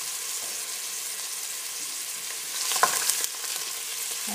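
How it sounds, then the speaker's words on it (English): Onions and garlic are stirred in warm olive oil for a spinach pie filling, a steady gentle sizzle with a brief burst of louder stirring and crackle toward the end. "we don't really want to brown the onions and the garlic. You want to keep stirring them."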